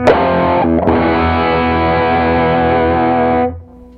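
Electric guitar through an AnalogMan Prince of Tone pedal with the boost turned fully up: a loud, thick distorted chord rings out, is restruck once, sustains evenly for about three seconds, then is cut off abruptly.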